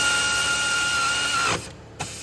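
A variable-speed power tool whirs steadily as it drives a bolt tight on a John Deere D105 mower, then cuts off abruptly with a short knock after the motor stops.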